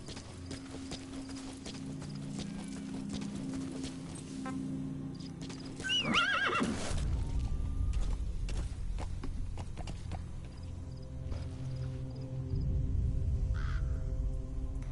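A horse in Metal Gear Solid V: The Phantom Pain gives a loud close whinny midway, surrounded by steady clip-clop of hooves, with crows cawing in the background.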